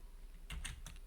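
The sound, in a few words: typing a color code on a computer keyboard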